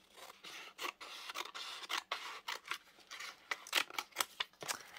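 Scissors snip and trim paper pages of an altered book in a series of close, crisp cuts with brief pauses between them.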